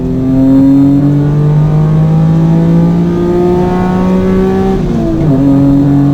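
A loud, steady engine drone with harmonic whine, shifting pitch as gears change, as race cars pass running hard on a track.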